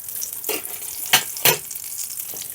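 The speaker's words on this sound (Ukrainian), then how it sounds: "Ось такі ось у мене тут красені смажаться." Continuous oil sizzle close by, with a few louder crackles and pops as pea-filled choux-dough pastries fry in a pan of oil.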